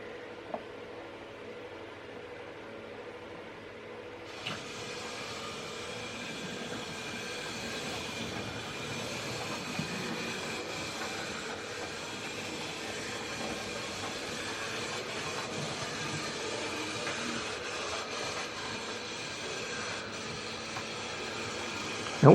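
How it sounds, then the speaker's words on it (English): A model train locomotive running in reverse to couple up gives a steady mechanical hum and rumble. It grows louder after a few seconds, then carries on evenly with faint clicks, and no one speaks. "we'll try to bring our locomotive out"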